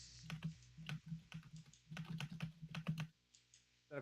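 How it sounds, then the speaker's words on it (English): Rapid, heavy typing hammers a computer keyboard during a live futures-trading stream, with dense irregular clacks nearly nonstop for about three seconds before trailing off, close and fairly loud with no voices. "Someone's going ham on the keyboard."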